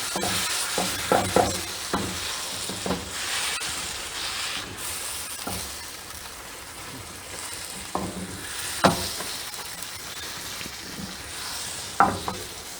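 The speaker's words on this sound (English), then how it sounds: "now I'm just mixing this because the marshmallow is hot enough to melt down the rest of the chocolate" Hot melted marshmallow and chocolate are stirred together in a pot, a soft continuous sticky swishing with intermittent clicks and taps of the utensil against the pot, close by and without talk.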